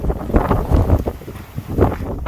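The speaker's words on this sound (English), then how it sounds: "Still very windy." Strong gusting wind on a coastal volcanic hike beside a lava wall, buffeting the microphone in loud, uneven rumbling bursts with no voices.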